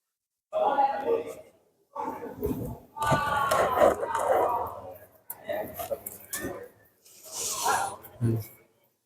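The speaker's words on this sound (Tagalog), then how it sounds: "Sigawan doon guys oh." Outdoors at night in a neighborhood, a group of people shouts and yells in loud, ragged bursts separated by short gaps, with laughter-like whoops among the calls.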